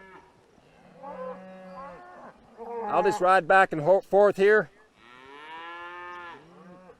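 Cattle moo in long, drawn-out bellows on an open range where horseback riders are moving a herd, with one deep, rising and falling call standing out close by. A rider speaks briefly between the calls.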